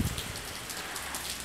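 Heavy afternoon rain pours steadily outdoors, a dense, even hiss of drops on surfaces close by, with no one talking.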